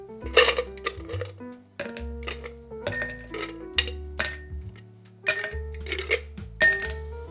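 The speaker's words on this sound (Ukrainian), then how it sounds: "Додаємо до нього лід." Ice cubes dropped into a glass cocktail mixing glass for an Old Fashioned, clinking and rattling in several bright bursts with short pauses between, close by and free of speech.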